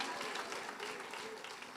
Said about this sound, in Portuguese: Então dê um aplauso a Jesus mais forte que você puder.